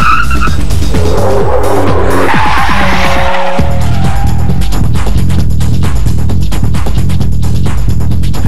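Loud hard stop of an Infiniti G35 with Brembo brakes from 70 mph, a sharp tire squeal and skid over the engine's low drone, fading into steady engine rumble after the car halts.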